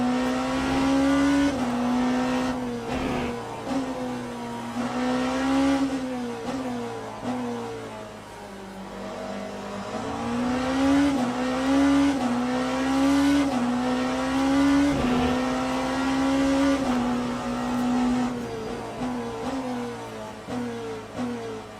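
A race car in Le Mans Ultimate at Portimao, engine note climbing and dropping through gear changes as it slows and accelerates, steady and close throughout.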